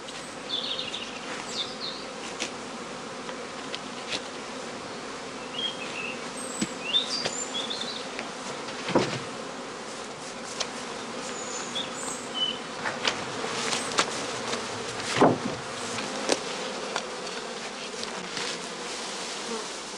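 Swarm of honeybees buzzing steadily around straw skeps, a dense, continuous hum with individual bees flying close past now and then, heard alone without talk.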